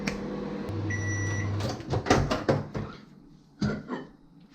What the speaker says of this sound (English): we're going to stick this in the microwave for a minute and 30 seconds